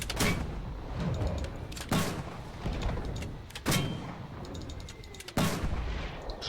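Artillery shells exploding in the World War II shooter Enlisted, four sharp booming impacts roughly every two seconds, each with a rolling tail, over a low background rumble.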